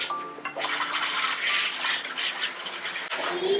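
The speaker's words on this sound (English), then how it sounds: "when you sand that fast, you definitely tend to take up a lot of dust" Fast sanding on a walnut ring box, a steady dry abrasive rasping that stays loud and close throughout with small rhythmic surges.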